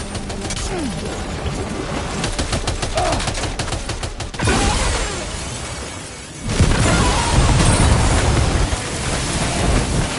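Weapons firing in an anime scene: dense bursts of rapid gunfire roar loudly for about ten seconds, with a brief dip in the middle before the barrage resumes even heavier.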